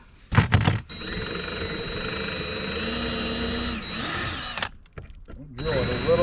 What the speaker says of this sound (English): So I will center that, drill these holes out.